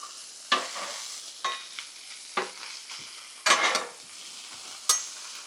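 Sloppy joe meat and onions being flipped on a hot griddle, a steady sizzle broken by several sharp scraping, stirring bursts, close and alone with no talk.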